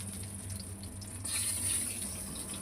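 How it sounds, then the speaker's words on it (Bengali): Water runs from a tap or is poured into a pan of jaggery being melted for a chutney, a short splashing stream that grows brighter and louder halfway through. "একটু জল দেব জল দিয়ে এটাকে গলাবো"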